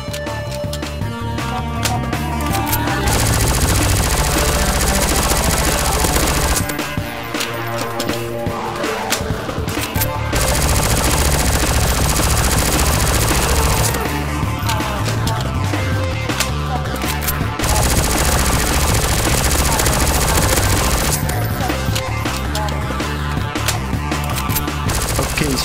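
Rapid bursts of SMG fire in a Counter-Strike: Source zombie escape round, loud and continuous in long automatic strings separated by brief pauses, with dense overlapping shots from several players.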